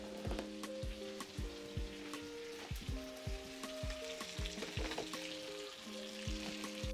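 Potatoes frying in oil in a cast iron pan, a close steady sizzle broken by sharp pops and crackles at an irregular rhythm.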